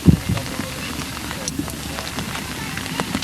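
Steady rain pattering at an outdoor 1998 Little League baseball game, a continuous soft hiss with scattered drops, heard up close alongside faint crowd and field noise.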